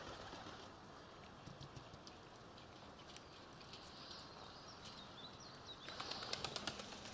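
Pigeons flap their wings as they fly down outdoors in the early morning, a faint fluttering that gives way to a louder burst of wingbeats near the end, with quiet ambient hiss throughout.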